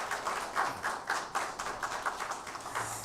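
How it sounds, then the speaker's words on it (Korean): A congregation at a Sunday worship service at Hanyang University Church claps in thanks to the church choir, a short burst of steady, fairly soft indoor applause from the pews. "은혜로운 찬양해 주신 우리 성가 대원들에게 다시 한번 감사의 박수하겠습니다"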